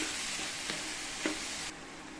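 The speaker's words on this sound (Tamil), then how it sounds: "அடுத்து சட்னிக்கு தேவையான அளவு உப்பு சேர்த்து மறுபடியும் நல்லா 1 நிமிஷத்துக்கு வதக்கி விட்டுக்கலாம்." Vegetables for a mixed vegetable chutney sizzle steadily in a pan as they are sautéed with salt, with a few soft stirring scrapes over the continuous frying hiss.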